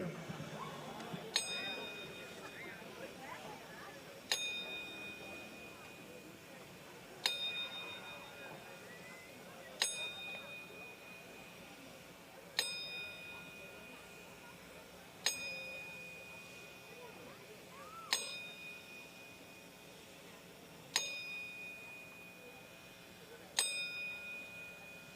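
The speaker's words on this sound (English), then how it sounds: "there will be a 10-count ringing of the bell" A memorial bell is rung ten times in a slow, steady count at a boxing event, each clear ding ringing out and fading before the next, over a soft murmur of a crowd in the hall.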